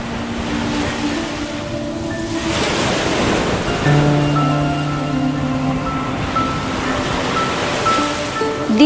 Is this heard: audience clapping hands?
no